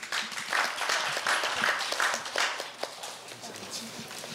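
Applause from the audience at a Korea University speaking contest as the next student contestant is introduced: a moderate, steady patter of clapping with some voices mixed in.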